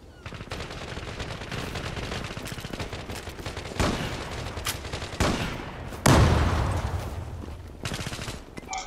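Rapid bursts of gunfire from the online shooter game Zula ring out nearly continuously, with several louder close shots standing out over the steady stream of automatic fire.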